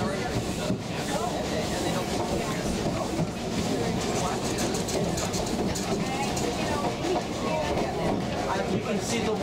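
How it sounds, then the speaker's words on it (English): A heavy train on the Ffestiniog Railway in Wales accelerates uphill, rumbling and clattering loudly and steadily, a dense mechanical roar with rattling and hissing that never lets up. "it's managing to accelerate on a hill with this heavy of a train"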